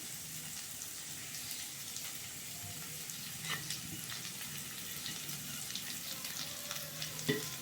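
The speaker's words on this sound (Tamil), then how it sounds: "நல்லா செவக்க வணங்கட்டும் வெங்காயம்." Onions sauté in a pan for chutney, giving a quiet, steady sizzle with a few faint stirring clicks and scrapes.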